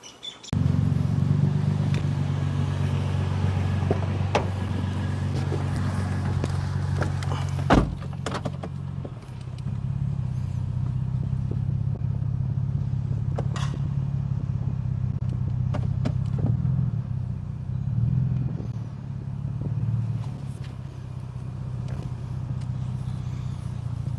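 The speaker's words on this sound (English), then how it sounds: "I'm gonna take this bike rack for a short drive. There's actually a hump that I can go over to show you what it looks like while driving" A car drives over a hump and bumps carrying a loaded QuikRStuff Mach 2 hitch bike rack. A steady low road rumble runs throughout, with intermittent rattles and knocks and one sharp thump near the middle. No one speaks.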